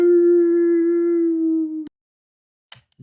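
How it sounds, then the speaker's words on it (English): A werewolf howl sound effect from a tabletop Dungeons & Dragons session rings out as one loud, sustained, steady-pitched wail that cuts off abruptly, followed by silence and faint noises. "Werewolf 5 lets out a howl."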